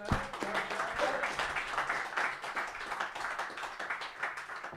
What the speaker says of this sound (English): first class, round of applause